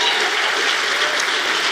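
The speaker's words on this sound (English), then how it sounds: "Let's give Jayson a round of applause, by the way." Audience giving a round of applause to a video maker at a live event with a basketball player; dense, loud, sustained clapping that stays even from start to end.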